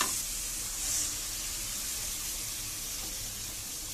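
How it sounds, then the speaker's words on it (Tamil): Ground tomato sautés in a pan for Indian-style masala macaroni, giving a soft, steady sizzle and hiss at close range with no talking. "இதையும் நல்லா பச்சை வாசனை போக நல்லா வதக்கணும்."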